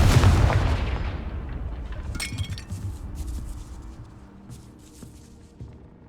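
A Confringo fire spell explodes in the video game Hogwarts Legacy with a loud blast, followed by glassy clinking and shattering debris that fades out over several seconds.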